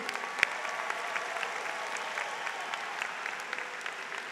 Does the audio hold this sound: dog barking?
no